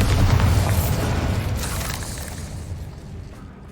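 A Bombarda spell explosion in the game Hogwarts Legacy, a loud broad rumbling blast that is already at full strength at the start and slowly decays over a few seconds with crackling debris.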